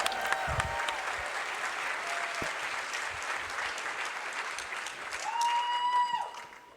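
A crowd applauds the Risk of Rain 2 developers as they take the stage at a live event, sustained clapping across the whole stretch, swelling near the end before tapering off.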